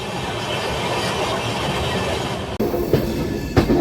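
An Amrit Bharat Express train runs on the rails near Gudur junction with a loud steady rumble, then a sharp shift to a closer rattle with a few metallic clanks.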